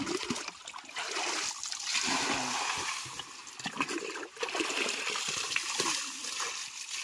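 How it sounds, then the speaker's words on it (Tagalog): Water drains out of a tank on a farm after it has filled, a continuous splashing gush with trickling and spattering that surges and eases slightly over several seconds, fairly close but not loud. "Matapos mapuno, tapos tanggalin din yung tubig."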